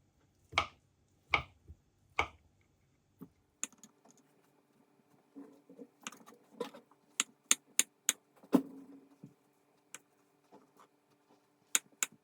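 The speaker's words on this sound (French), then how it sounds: "je vais couper les pommes de terre en petits morceaux" A knife cuts potatoes into small pieces on a board for a Piedmontese potato salad, giving a run of sharp, distinct chops, some single and some in quick clusters, close by with quiet pauses between and no talking.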